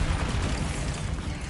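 In the Hogwarts Legacy video game, a Bombarda spell goes off as a loud, dense rumbling blast that fills the whole moment with heavy low-end roar.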